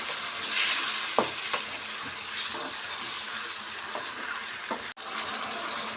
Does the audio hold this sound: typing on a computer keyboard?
no